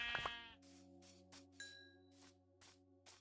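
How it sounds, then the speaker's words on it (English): Sheep in the video game Minecraft bleat in a few short, quiet calls, followed by a series of soft, evenly spaced game sound effects. "So there's sheep."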